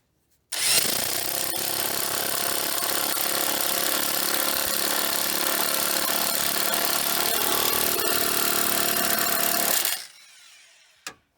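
A power tool, likely an impact wrench, runs at a steady high pitch for about nine seconds while tightening a bolt on a vehicle body mount, then cuts off abruptly; close and loud, with no talking.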